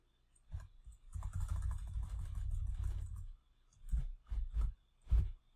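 Close, quiet computer keyboard typing, with a steady run of rapid key clicks followed by a few separate short bursts of keystrokes.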